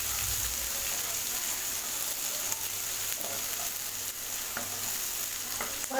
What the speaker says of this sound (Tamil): நான் கட் பண்ணி வச்சுருக்கிற ஒரு பெரிய வெங்காயத்தை இதில் போட்டுடலாம். வெங்காயம் நல்லா ஒரு டைம் நல்லா வதக்கிக்கலாம்.